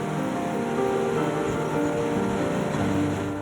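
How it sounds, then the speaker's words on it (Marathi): Roar of the Dabhosa waterfall plunging about 300 feet at Jawhar in Palghar during the monsoon, a steady, loud, dense wash of falling water with no pauses and no voices. "सुमारे 300 फूट उंचीवरून कोसळणाऱ्या या धबधब्याचा आवाज"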